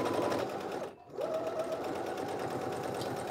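A sewing machine stitches knit fabric for a tee, running in a close, steady rapid whir, briefly stopping for a moment before continuing.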